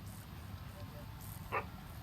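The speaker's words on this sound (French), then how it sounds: "Si t'appuies sur G, tu peux aboyer quand t'es un chien" A single short bark from a dog character in the fishing video game Webfishing, heard once as a brief yip over a low background hum.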